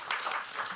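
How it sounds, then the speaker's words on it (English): Applause from a conference audience after a lead AI researcher is thanked, a steady wash of clapping lasting under a second with no voices on top. "Round of applause."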